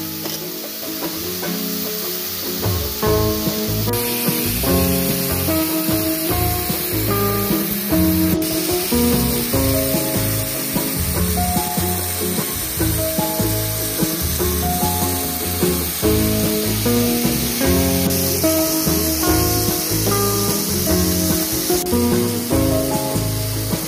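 Pechay adobo cooks in a pan with a steady, loud sizzle and hiss that runs continuously, broken by stirring scrapes and soft clinks, with no speech.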